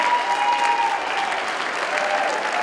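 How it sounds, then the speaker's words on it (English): Sustained audience applause from a crowd at a live event, dense and steady throughout without pause, fairly loud and close. "So let's give them a round of applause for stepping up"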